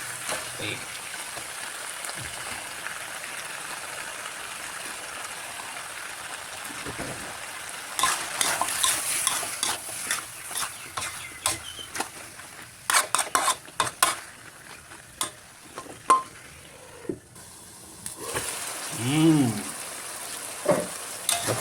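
Thai eggplant stir-fried into a wild boar red curry, with a steady pan sizzle and a run of spatula scrapes and clatters through the middle, while a voice speaks at moments.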